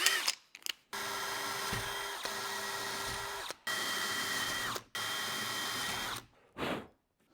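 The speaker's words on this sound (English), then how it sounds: "the drill that I've got here I think is a 6mm drill" A power drill with a 6mm bit whirs in several long, steady bursts, stopping and restarting between runs, close by and fairly loud.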